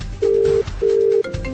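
A telephone rings loudly and close by, two long electronic ring tones with a short gap, and a third starting at the end.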